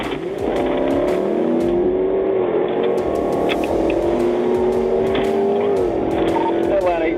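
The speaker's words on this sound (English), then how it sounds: "The moment police closed in, the driver punched the gas" A stolen Dodge Challenger Scat Pack accelerates away from police during an Atlanta chase, its engine note climbing steadily and loud throughout, with a siren-like wail and radio chatter layered over the roar.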